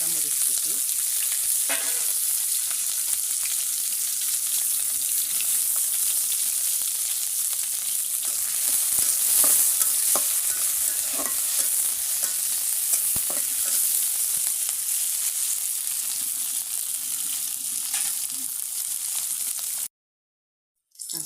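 Chopped onion and green chili fry in hot oil for a bottle-gourd and prawn curry, a loud, steady crackling sizzle with occasional stirring scrapes, close up and continuous, then a sudden brief dropout near the end.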